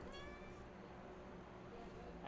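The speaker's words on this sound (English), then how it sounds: "I swear I heard a cat." A cat meows faintly in the distance, a short, thin cry near the start, in a very quiet room with low background hiss.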